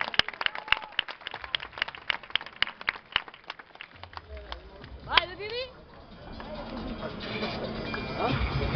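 Audience at a boxing event applauding a fighter: scattered sharp claps under an announcer's voice grow into a sustained, rising wave of applause.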